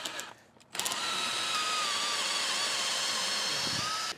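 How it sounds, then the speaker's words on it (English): A power drill whirs steadily and close by after a brief quiet start, grinding continuously through a wooden 2x4 for several seconds. "Now I'm gonna finish drilling through that 2x4."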